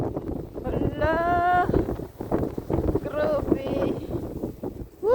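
Strong wind buffets the microphone with low rumbling gusts during a night snowstorm, while someone talks excitedly over it.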